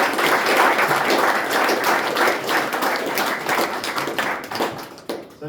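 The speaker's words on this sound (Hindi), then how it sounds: "तो एक बार हम सुन जोरदार तालियां।" An audience at an addiction recovery gathering breaks into loud, dense clapping that stays strong, then thins and fades toward the end.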